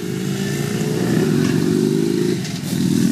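Motorcycles pass by outdoors, a steady loud low engine drone that swells slightly and holds for a few seconds, with no one talking over it.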